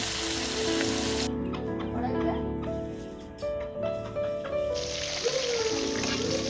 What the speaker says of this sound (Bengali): মাছগুলোকে ভেজে নেবা নাকি?